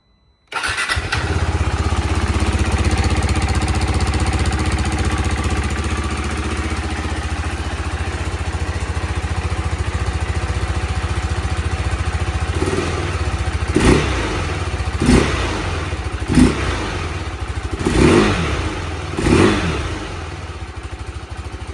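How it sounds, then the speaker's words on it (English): A stock exhaust on a 2023 KTM RC 390 motorcycle starts up and idles steadily and loudly up close for a long stretch, then several sharp throttle blips rev the single-cylinder engine in quick succession near the end. "just to give y'all a quick sound check on what it sounds like, stock exhaust, before we put the full Dominator exhaust on the 2023 KTM"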